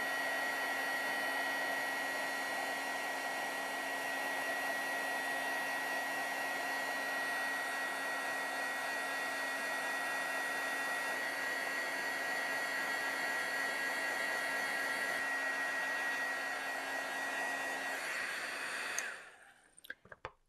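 Heat tool melting embossing powder on a Valentine's shaker card blows a steady, close whooshing hum with a faint tonal whine, running without a break and then cutting off near the end, followed by a few soft clicks.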